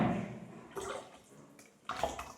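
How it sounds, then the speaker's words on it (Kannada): Water pours into a pot of palak sambar in a home kitchen, a soft close splashing in a few short bursts separated by brief pauses, fairly faint overall. "ವಾಟ್ರ್ ಹಾಕ್ತಾಯಿದ್ದೀನಿ"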